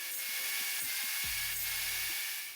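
A power table saw cuts wood for a fence gate joint as the board is slid back and forth over the blade, giving a steady loud whine with grinding rasps through most of the moment, no talk.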